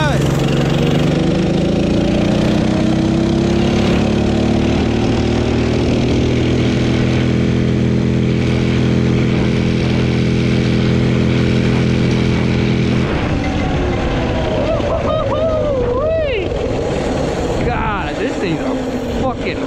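A $100 minibike engine runs at speed, a loud, steady, buzzing drone that holds for most of the run, then wavers and shifts in pitch as revs change near the end.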